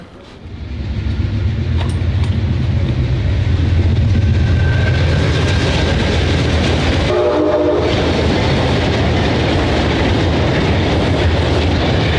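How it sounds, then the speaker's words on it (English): Amtrak's eastbound Wolverine passenger train number 352 passes close by at CP Drawbridge on the Michigan Line, a loud steady roar of wheels and rail noise filling the scene, with a brief horn note partway through. "we caught Amtrak's eastbound Wolverine number 352"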